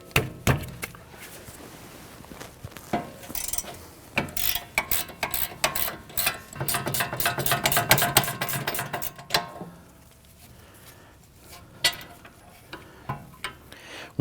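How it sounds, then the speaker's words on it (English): A 15mm gear wrench ratchets a bolt on the rear upper control arm of a 2010-2019 Ford Taurus, rapid close metallic clicking in irregular bursts with brief pauses between strokes. "On the top bolt here, we're going to use our 15mm gear wrench."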